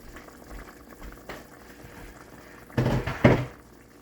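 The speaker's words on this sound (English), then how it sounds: "It's boiling up nicely." Curry stewing beef bubbles in a pot, a faint, steady simmer that ends in a couple of louder clattering knocks near the end, with no voices.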